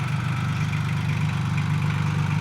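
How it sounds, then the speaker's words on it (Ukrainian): A Solis 26 mini tractor with an original Mitsubishi engine, 24 horsepower, idling close by at a low, even, steady hum with no revving, fairly quiet and alone without talk. "Як тихенько працює, взагалі трактор"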